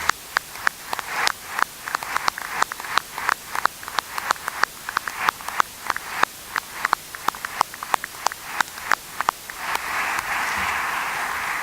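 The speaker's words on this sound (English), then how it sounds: "please, once again, a great applause to these 3 people" Applause at the close of an energy-sector innovation conference, honouring three organisers: a steady run of sharp, separate claps from a modest audience, building into denser, continuous clapping near the end.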